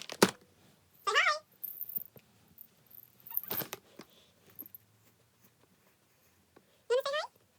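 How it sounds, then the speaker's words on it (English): A pet cat summoned with a treat bag meows a few times, short rising calls heard close by, between stretches of a person speaking. "Alright, I'll summon cat."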